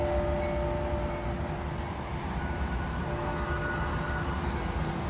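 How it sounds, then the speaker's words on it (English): A DART light rail train in Dallas approaching on a hot sunny day, a steady low rumble with faint tonal whine holding evenly throughout, no talking. "Here comes one of them D.A.R.T trains."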